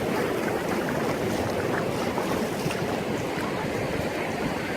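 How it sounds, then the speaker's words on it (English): Ocean surf washes continuously on a beach, a dense steady roar of waves with wind buffeting the microphone throughout. "I really enjoyed having this wonderful waves just lapping up against your feet"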